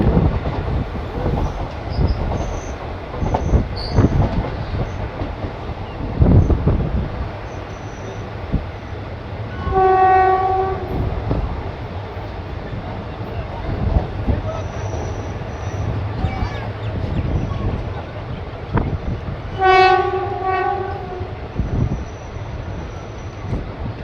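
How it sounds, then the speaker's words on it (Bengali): Katwa–Nimtita passenger train arriving at Khagraghat Road, its horn sounding twice as loud harmonic blasts, once briefly and once longer, over steady rumbling of rolling wagons and wheel noise. "দুপুর দুটো বেজে কুড়ি মিনিটে ট্রেন এসে পৌঁছালো খাগড়াঘাট রোড"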